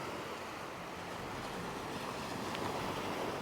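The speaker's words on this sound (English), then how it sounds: "listen to the ocean" Continuous surf rolls and washes nearby at Cha-am Beach, Thailand, a dense steady roar with light wind buffeting and no talking.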